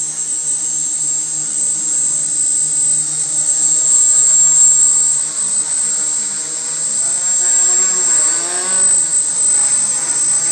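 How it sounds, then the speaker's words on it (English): A hexacopter with 1400 kV motors hovers and spins up, a loud, steady, high-pitched propeller whine and buzz that shifts slightly in pitch as throttle changes near the end. "A lot of torque with these motors."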